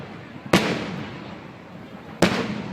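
Fireworks over an urban residential district, two loud booming bursts about two seconds apart, each followed by a long crackling, hissing decay, heard at moderate distance with people talking faintly in the background.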